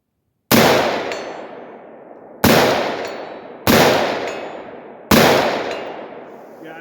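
Four sharp, loud 5.56 rifle shots from a rifle fitted with a Deer Creek Stealth Blast muzzle brake, fired outdoors at uneven intervals, each a hard crack followed by a long ringing decay.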